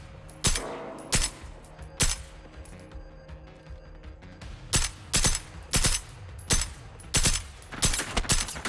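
Loud bursts of automatic gunfire in the video game Generation Zero, about a dozen short rattling volleys separated by brief gaps, close and dominant with almost no talk.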